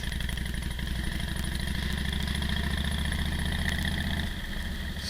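A motorcycle engine runs continuously and close by with a steady, throbbing mid-range drone as the throttle is opened while cornering, then eases slightly near the end.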